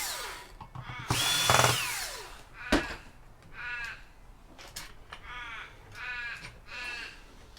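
Several crows caw in repeated, rhythmic bursts at moderate distance, while a power drill whines loudly nearby during a session of scrapping electronic waste, with a sharp knock partway through.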